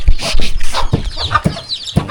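Chickens cluck repeatedly in a Lao village, close and fairly loud, with irregular bursts of hen calls through the stretch of farmyard sound.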